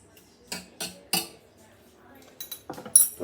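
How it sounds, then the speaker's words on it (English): A metal fork scraping and clinking against a bowl while mixing seasoning into raw pheasant: three sharp clinks close together, a pause, then a quicker cluster of taps and scrapes, all close and fairly quiet. "Just get a fork, mix it up nice."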